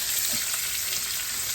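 A large sliced onion hits browning peppers frying in olive oil in a saucepan over low to medium heat, giving a steady, close sizzle with no talk.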